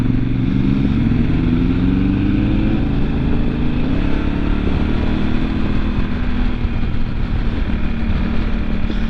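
A Honda Africa Twin CRF1000L2 Adventure Sports DCT motorcycle engine runs steadily and loudly close by, a continuous throaty rumble whose pitch climbs slightly over the stretch, with no talking.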